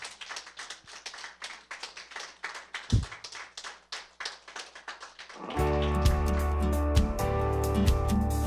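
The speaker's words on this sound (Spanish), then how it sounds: "dale un aplauso al Señor por ser tan bueno" A church congregation claps in a rhythmic, unified beat for several seconds, then the clapping blends into loud sustained music with occasional sharp hits, fairly close and full.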